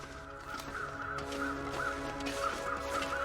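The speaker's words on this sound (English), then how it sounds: "Alright, I see carrion crows." Carrion crows caw repeatedly in a rhythmic series of harsh calls over a steady wind-like ambience in a snowy wilderness in The Long Dark; no talking.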